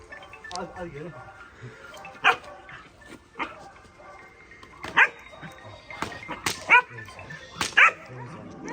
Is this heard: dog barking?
yes